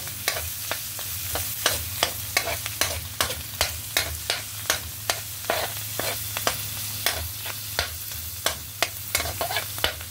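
Mushrooms and French beans sauté in butter with ground meat, giving a continuous sizzle broken by a rapid, regular series of sharp spatula scrapes and taps against the pan, with no voices.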